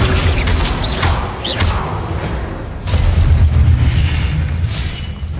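Spell effects from a Hogwarts video game, including Expelliarmus, Incendio and Accio, roar and boom loudly in a dense, continuous wash of magical blasts and whooshes with no pause.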